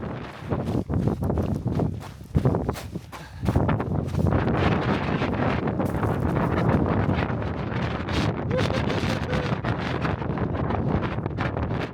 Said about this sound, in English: Incredibly windy, as you can hear.